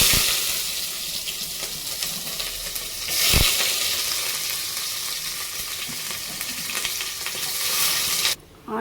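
Onions frying in oil with mustard seeds, cumin and fenugreek, a loud, dense, steady sizzle with a brief louder burst and occasional stirring scrapes, continuing without talk.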